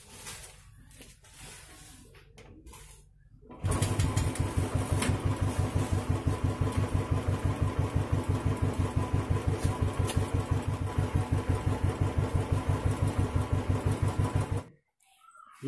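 A Royal Enfield motorcycle with about 12,000 km on it starts abruptly after a quiet stretch, then runs with a loud, steady, rapid thumping beat close by for roughly eleven seconds before cutting off.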